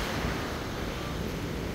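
Ocean surf at Miami Beach is a continuous broadband wash of waves with wind buffeting the microphone, loud and close, with no clear individual breaks.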